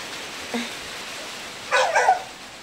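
A dog in Tagum City, Philippines gives a faint short yip, then a louder brief bark-like burst a second later, both over quiet background.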